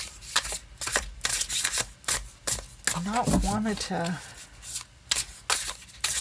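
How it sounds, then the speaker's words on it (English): A Crystal Tarot card deck is shuffled by hand, producing rapid soft riffling and flapping bursts, while a person speaks briefly midway through. "I shuffle them between readings"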